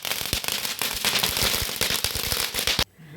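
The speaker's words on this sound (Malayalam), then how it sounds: "ഞങ്ങളെല്ലാവരും ഒരുമിച്ച് കൂടിയിട്ടാണ് പടക്കങ്ങൾ പൊട്ടിച്ചത്." Firecrackers set off together at a church feast night celebration, a dense rapid string of sharp cracks and pops, loud and close, cutting off abruptly near the end.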